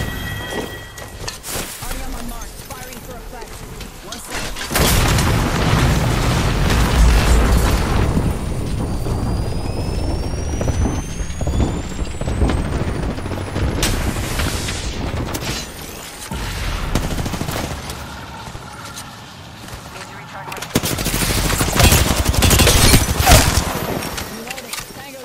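Bangalore's artillery strike in Apex Legends lands as a string of heavy, booming explosions and rumbling gunfire-like blasts in two loud bursts, with a voice talking over the action.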